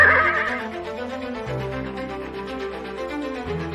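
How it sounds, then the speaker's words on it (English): A horse whinnies loudly and close by, a drawn-out neigh with a few fluttering breaths, with no other sounds around it. "Mithra mounted his horse and rode away."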